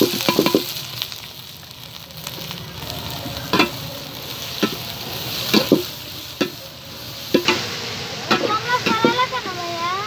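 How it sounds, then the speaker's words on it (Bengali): Onions frying in oil in a pan, a steady close sizzle broken by irregular scraping and clattering as a utensil stirs, moderately loud, with a brief bit of talk near the end. "প্রথমে আমরা তেল দিয়ে দিলাম পরিমাণ মতো। এখন আমরা পেঁয়াজ দিয়ে দিলাম।"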